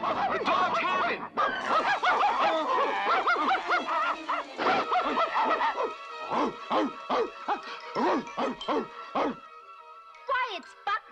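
Cartoon dogs in a Scooby-Doo scene barking in a quick series of short yaps, with snickering laughter and spoken voices around them.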